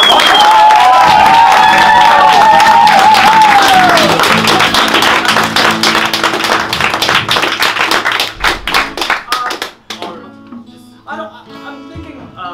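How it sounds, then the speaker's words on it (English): Loud applause from an improv theatre audience, with clapping and some cheering that swells and then tapers off over several seconds. "Big round of applause."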